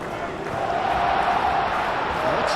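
A dense stadium crowd roars and cheers continuously in a PES football video game match between Turkey and Paraguay, loud and sustained like a wash of noise.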